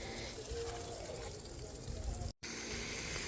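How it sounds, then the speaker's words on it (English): A pump empties duck pond water into a garden, giving a steady rushing gush of flowing water that runs without a break at moderate distance, with only a brief dropout near the end. "what I'm doing now is just pumping out all of that pond water into my garden"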